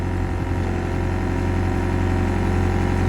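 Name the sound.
excavator engine revving with throttle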